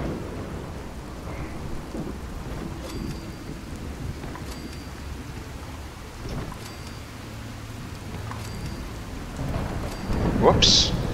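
Heavy rain pours continuously with recurring low thunder rumbles in Fallout 4, sprinkled with light metallic clicks, and the storm surges louder with a bright crackling burst in the final second.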